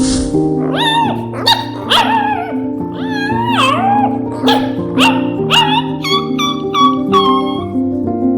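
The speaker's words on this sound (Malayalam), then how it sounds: "ഒരു നായ്ക്കുഞ്ഞിന്റെ കരച്ചിലല്ലേ ആ കേൾക്കുന്നത്?" A cartoon puppy cries in a string of high, wavering whimpers and yelps, close and loud, over a steady background music bed with tonal chords throughout.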